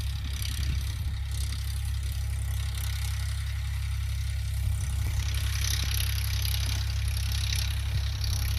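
A tractor engine drones steadily at close range during sowing, with a deep, constant low rumble and faint mechanical rattling over it.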